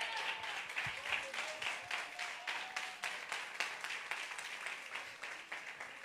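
Church congregation applauding during a sermon, a steady, fairly soft patter of many hands clapping with a faint tone running under it, continuous throughout.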